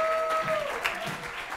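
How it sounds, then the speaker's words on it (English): A church congregation claps in praise during a pastor's sermon, a short burst of moderate applause mixed with faint voices and a thin tonal ring at the start. "Come on, clap your hands and give God praise today."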